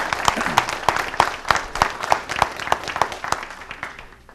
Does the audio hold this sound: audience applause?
yes